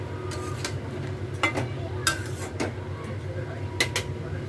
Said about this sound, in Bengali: পেস্ট করা মশলাটা দিয়ে দিচ্ছি, আর মশলা দেওয়া জলটাও একটু দিয়ে দিচ্ছি। দিয়ে এবার ভালো করে নাড়িয়ে নেব।